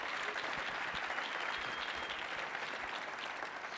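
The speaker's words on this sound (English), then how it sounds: "Please, let's give them another round of applause." A concert audience at the Millennium Stage claps in sustained, dense applause that holds steady the whole time without fading.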